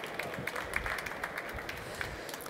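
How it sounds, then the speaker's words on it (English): An audience at a presentation on thin-film fuel cell catalysts applauds, a dense patter of many hands clapping steadily with murmuring voices underneath, moderately loud and continuous for a couple of seconds. "Give him once again your applause"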